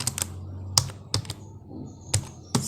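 Typing on a computer keyboard while entering a job search: a handful of sharp, close key clicks arrive in short irregular bursts with quiet gaps between them, and no one speaks.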